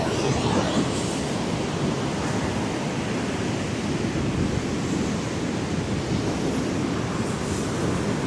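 Waves wash onto Candolim Beach in Goa in a continuous, steady surf roar with breezy wind, no voices.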